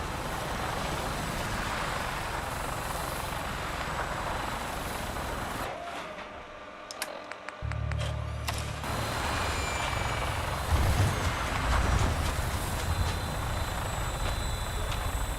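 Vertibird aircraft in Fallout 4 spooling up for takeoff, a steady loud rotor and engine roar with a brief dip and clanking midway before the heavy thrum returns and swells.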